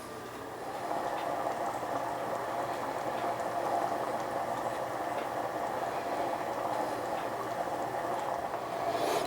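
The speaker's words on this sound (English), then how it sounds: "chili come to a nice little simmer" Ground beef chili with two kinds of beans boiling in an uncovered pot, a steady, continuous bubbling and churning that holds at an even level throughout with no voices.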